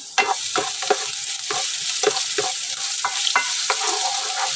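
Garlic sautéing in a pan for a bitter melon and sardine dish, a hot sizzle under repeated stirring scrapes that come in quick irregular strokes, close and fairly loud, with no talk.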